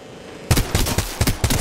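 Rapid gunfire in the video game Apex Legends: a quick series of about five sharp, loud shots in uneven rhythm, close and punchy.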